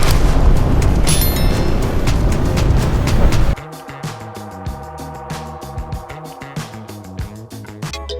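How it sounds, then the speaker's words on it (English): A banana blown apart in a slow-motion explosion, heard as a loud sustained roaring boom that cuts off abruptly, followed by quieter repeated thuds and pops. "Did you like Banana's explosion?"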